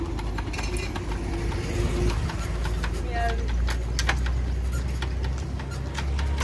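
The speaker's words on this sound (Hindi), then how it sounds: "अभी मैं बाइक को स्टार्ट करने लगा हूँ" A motorbike engine runs with a low, steady idling rumble and faint mechanical ticking, close by outdoors, with a few sharp clicks and knocks over it.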